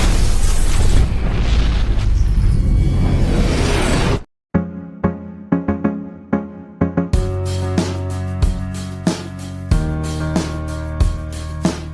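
A big explosion in an animated K-pop demon-hunter scene: a loud, sustained roaring blast for about four seconds, a sudden cut to near silence, then dramatic music with heavy percussive hits swelling up.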